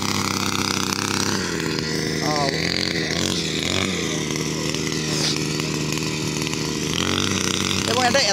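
A small, portable power weeding machine runs on farmland, its engine giving a steady buzzing drone with a few rises in pitch. Someone talks over it throughout.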